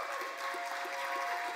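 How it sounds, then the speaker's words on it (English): An audience claps after a talk about lessons from a first marathon, giving a steady, fairly faint wash of applause with no voices. "Give a round of applause for Jennifer."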